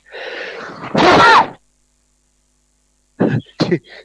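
A wet sneeze rises into a forceful burst, then after a silent gap come two short, sharp coughs, loud and close.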